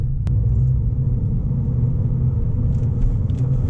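A car on a race track at a MINI vs BMW track day, running on new tyres, gives a steady low engine rumble that holds at an even level throughout, with no voices.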